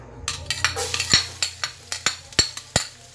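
Garlic sautéing in a pan, stirred with a metal utensil: a regular series of about ten scraping clinks against the pan over a faint sizzle, close and crisp.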